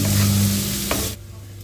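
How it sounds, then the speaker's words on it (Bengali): Spices for chana masala, with turmeric, cumin, salt and sugar, being stirred in a pan over a low flame, giving a loud, steady sizzle that breaks off abruptly near the end into a quieter hum. "সব মশলা একসাথে ভালোভাবে নাড়াচাড়া করা হয়ে গেছে।"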